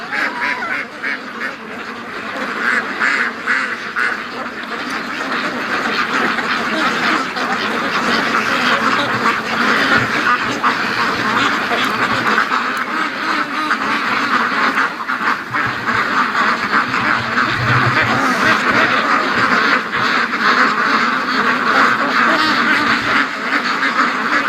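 A flock of free-range farm ducks quacks continuously and loudly up close, with overlapping calls and a few goose-like honks mixed in, no talking.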